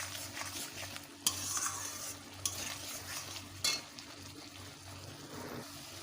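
Spoon stirring a pan of frying poppy seed and mustard paste with its soaking water and whole green chillies, a soft steady sizzle with a few sharp scrapes and clinks against the metal, no voices.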